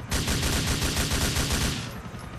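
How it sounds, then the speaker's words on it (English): Rapid gunfire from GTA IV aimed at a police helicopter, a dense continuous burst of loud overlapping shots rattling for about two seconds before cutting off. "Just get your ass lower, bitch, so we can shoot you down."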